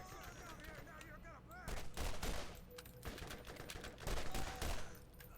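Rapid automatic gunfire rattles in Borderlands, with two dense, loud bursts of shots. Game sound effects and some talk come in between the bursts.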